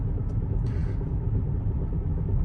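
A Kia Seltos or Hyundai Creta base model fitted with upsized 215/60R16 Kumho tyres cruises on a highway at around 100, producing a steady, heavy, low road and engine rumble with no talking.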